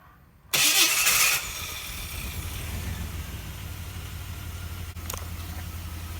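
A 2000 Chevrolet Blazer engine just after a tune-up: a short, loud starter crank catches almost at once, then settles into a steady, even idle close by with no voices.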